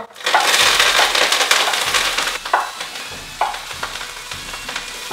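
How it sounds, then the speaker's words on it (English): Loud crackling sizzle of kale with garlic and chestnuts hitting a hot pan, settling into a quieter frying hiss with occasional pops and stirring scrapes. "We are going to saute the kale with some garlic and, of course, some chestnuts"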